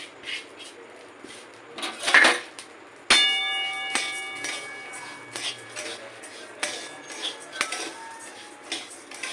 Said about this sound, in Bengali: ঘি আর গোবিন্দভোগ চাল একত্রে মিশিয়ে আমি এটাকে ভেজে নিচ্ছি